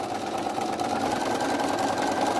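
A sewing machine stitching the border of a hexi quilt, running in one continuous even whir at close range with no pauses and no talking.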